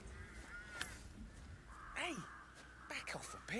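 Crows in the Dartmoor level of the video game Hitman 3 give several hoarse caws in separate bursts over a faint ambient bed, moderately close, with no voices.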